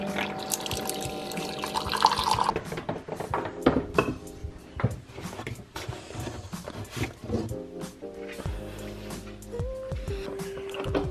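Honeybush and rooibos tea is poured into a cup amid kitchen clatter, with a splashing trickle of liquid mixed with clinks of dishes and cutlery, close and moderately loud.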